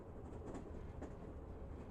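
A train starts to move off, a low steady rumble of wheels and carriage with faint rhythmic clatter, quiet and even throughout.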